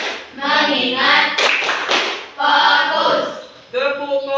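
A class of schoolchildren chant in unison, broken by a quick run of sharp rhythmic hand claps, then the chanting resumes.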